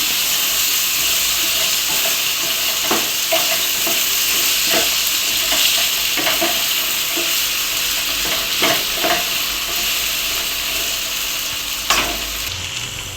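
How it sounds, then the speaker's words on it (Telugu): Cut potatoes fry in a pan and get stirred, a continuous loud sizzle with repeated scraping and clinking strokes of the spoon, close up and with no talking. "ఇప్పుడు మనం ముందుగా కట్ చేసి పెట్టుకున్న బంగాళదుంపలను అయితే వేసేసుకోవాలి. బాగా కలుపుకోవాలి."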